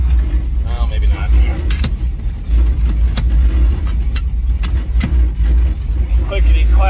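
A 1966 Chevy Nova wagon with a supposedly rebuilt carburetor drives under its own power, its engine a loud, steady low rumble close by, with a few sharp clicks and someone talking over it.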